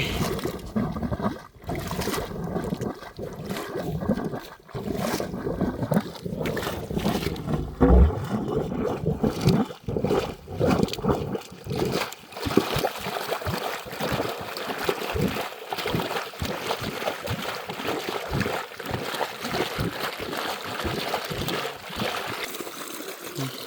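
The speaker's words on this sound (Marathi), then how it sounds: "मी तुम्हाला मोटर देखील ऑन ऑफ करून दाखवतो की तिचा पंप दुपारी दोन वाजता कशाप्रकारे पाणी मारतो" Water gushes and splashes steadily from a Goldi 3 HP solar pump on a farm at midday, a loud continuous rushing flow with choppy bursts, heard up close with no speech.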